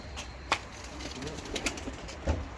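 Play pigeons flutter and coo in a noisy outdoor scene in Mardin, Turkey, with scattered wingbeats and brief calls over steady background hiss.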